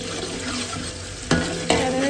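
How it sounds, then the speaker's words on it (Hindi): Onions and garam masala fry in hot oil in a large cooking pot, a steady sizzle broken by two clattering stirs of a utensil against the pot. "मैंने इसमें गरम मसाला और प्याज डाल दिए हैं।"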